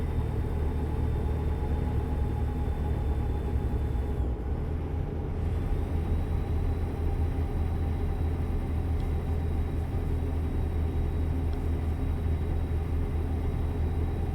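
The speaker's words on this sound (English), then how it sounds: "you hear that little bit of a sort of electronic whine? That's what that transmission retarder does." Electronic whine of a transmission retarder on a heavy vehicle: a thin, steady high tone running above a continuous low engine rumble, with a brief dip partway through before the whine resumes and holds to the end.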